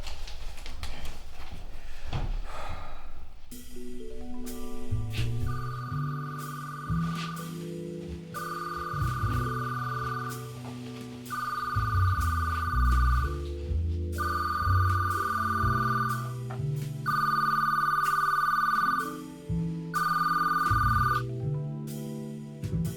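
A telephone rings repeatedly in a British crime heist film scene, its bright electronic trill pulsing in steady bursts over a swelling orchestral score, with no talk during the ringing.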